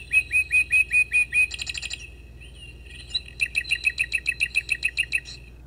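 Bright, high mechanical chirps from a cuckoo clock bird in quick repeated bursts, a short run, a brief pause, then a longer steady series, close and clear.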